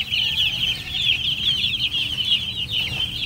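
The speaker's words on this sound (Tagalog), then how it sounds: "Mga sisiw natin." Chicks cluck and peep in a scratch pen, a continuous busy chorus of high chirps close by with faint rustling and low background noise underneath, no talking.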